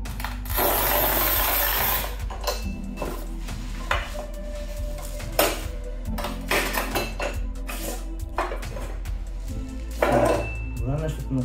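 A tile cutting machine scores and snaps tile for a shower, producing scraping, clicking metallic strokes and small clattering knocks in irregular bursts, close up with a short gritty grinding pass near the start.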